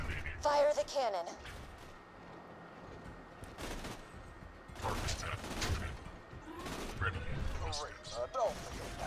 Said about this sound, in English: Now, fire the cannon.